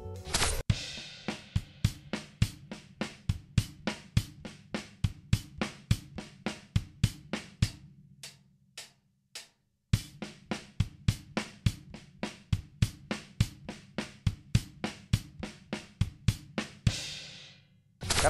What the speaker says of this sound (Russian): И вот пример этого чопа. Без грува, только чоп.